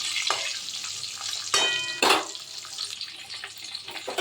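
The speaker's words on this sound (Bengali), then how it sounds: "একটা মাছ ভাজতে বসিয়ে দিয়েছি" Parshe fish fries in oil in a pan, giving a close, steady sizzle. Two louder bursts of spatter and a brief clatter break through partway.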